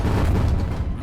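Rockets fired from a rocket launcher explode in the video game Beyond Citadel, a brief, heavy, rumbling boom that fills the whole moment with low-end thunder and no voices.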